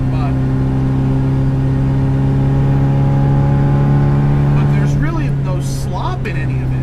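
A supercharged left-hand-drive 1967 MGB GT engine drones steadily while driving, a loud constant tonal hum heard from inside the car, with someone talking over it near the end.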